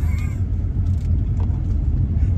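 A car moving along a road in South Goa, with a steady low engine and road rumble filling the whole stretch, no voices heard.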